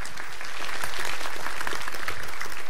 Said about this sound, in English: Big applause for Tomasz Melcer.